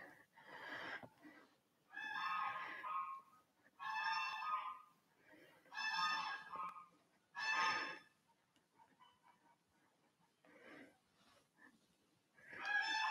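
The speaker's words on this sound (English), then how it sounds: "I don't know if you can hear the geese there." Geese honk outdoors in a run of about five loud, bright calls, separated by short pauses, then a quieter stretch before another call rises at the end.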